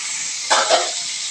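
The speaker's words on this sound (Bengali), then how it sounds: "আর রসুনের মধ্যে শাকগুলো দিয়ে নাড়াচাড়া করে সুন্দর করে ভেজে নিচ্ছে।" Bottle gourd greens fry in hot oil with dried chillies and garlic, a steady close hiss that swells briefly as the greens go into the pan.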